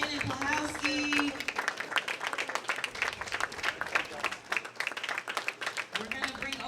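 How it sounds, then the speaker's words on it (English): Spectators at a bowling tournament applaud a third-place finisher, a steady wash of many clapping hands throughout. An announcer talks over the clapping. "Gentlemen, huge round of applause for our third place finisher, Miss Shannon Pluhowski."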